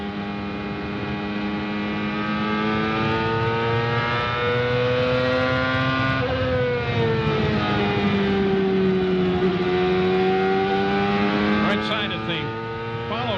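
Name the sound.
race car engine onboard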